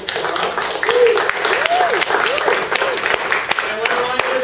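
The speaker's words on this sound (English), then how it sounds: "I just want to give a great big round of applause to Nicholas Parra" An audience claps in sustained applause for a speaker, a dense patter of hands carrying on under a voice talking over it.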